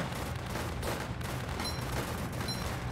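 Machine gun fire in a tower defense battle, heard as a steady, dense rattle of overlapping shots with a low rumble underneath, continuous and moderately loud throughout.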